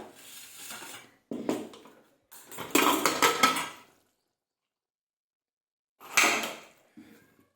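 Cooked drumstick vegetable being taken out of a pressure cooker, with bursts of metal clatter and scraping of a spoon against the cooker pot, separated by silent pauses.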